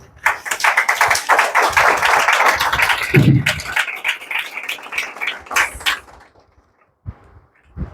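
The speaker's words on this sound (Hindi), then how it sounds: "और जोरदार ताली से फिर से स्वागत करेंगे" Audience applause welcoming someone speaker at a Women's Day church service, a dense burst of clapping through the first six seconds that then thins out, with a few stray claps near the end.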